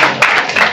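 A very brief burst of audience clapping at a talk on public water services, close and fairly loud, lasting under a second.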